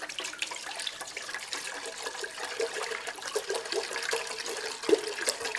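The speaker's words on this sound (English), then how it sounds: "I'll carefully pour in that apple cider." Apple cider pours from a gallon jug into a pot on the stove, a soft steady trickle and splash that stays fairly quiet, with no talk over it.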